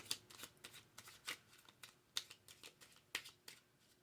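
Cards being shuffled close up in a quiet room, a series of short crisp riffling bursts at irregular intervals.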